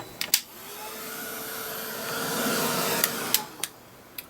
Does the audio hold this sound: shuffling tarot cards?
no